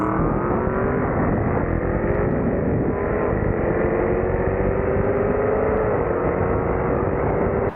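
An Aston Martin Vantage S launches and accelerates hard, its engine note loud and close, rising steadily in pitch as it pulls through the run with no talk.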